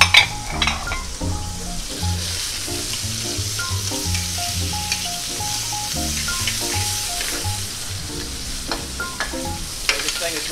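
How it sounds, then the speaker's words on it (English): Shrimp sizzling in olive oil in a hot skillet, a loud, steady frying hiss broken by stirring clatter and utensil taps against the pan, close up throughout. "So for our shrimp, we're gonna start off olive oil."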